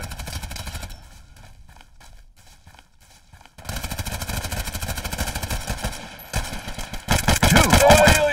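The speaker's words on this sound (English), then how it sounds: "that fucking pistol is ridiculous" Pistol gunfire in the shooter game Hired Ops, bursts of sharp shots with a quieter stretch in the middle, then louder rapid firing near the end.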